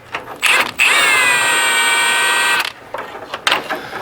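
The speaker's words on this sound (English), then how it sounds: "If I can get the wrench in there, we'll hold it from the back side." A ratchet wrench loosens a suspension bolt on a 1970 Ford Mustang Mach 1, giving one sustained, loud run of rapid clicking close up, with shorter clicks before and after.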